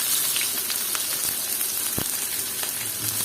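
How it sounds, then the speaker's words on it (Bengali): Chopped onion frying with lightly fried spices in a pan for a sea rita fish curry, a loud steady crackling sizzle throughout with a few soft stirring taps. "এখানে আমি 1 কাপের মতো পেঁয়াজ কুচি দিয়ে নিলাম"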